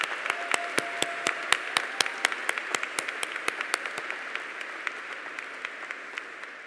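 Scattered, thinning applause from a commencement crowd of graduates at Grinnell College, individual sharp claps standing out at a moderate distance and tapering off toward the end.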